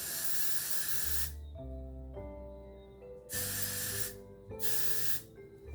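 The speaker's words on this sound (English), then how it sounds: "Spray." Three long hissing bursts of hairspray, close and loud, separated by short pauses with quiet background hum.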